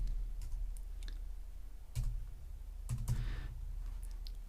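Keys on a computer keyboard click in short, irregular bursts, quiet and close, over a low background hum.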